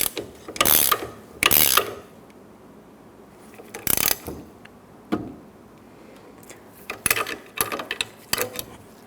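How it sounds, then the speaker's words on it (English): Ratcheting clicks from an 18mm wrench tightening the rear sway bar link nut on a 2014–2019 Toyota Highlander, in several short bursts with gaps between them and no talk. "I'm going to hold the center shaft while tightening it down with an 18mm wrench."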